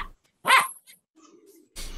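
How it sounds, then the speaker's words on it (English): A dog gives a short excited yip followed by soft whiny vocalizing, brief and close, like playful happy noises. "Those are happy dog noises if I've ever heard them."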